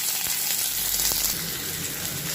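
Chopped onion goes into hot mustard oil with a dried red chilli and whole cumin, giving a steady, loud close sizzle of frying with a brief stir.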